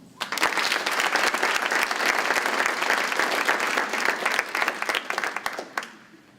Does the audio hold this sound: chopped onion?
no